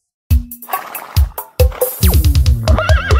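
A horse whinny, apparently a sample in a Brazilian brega dance track, rises sharply amid punchy beats and synth tones, loud and close.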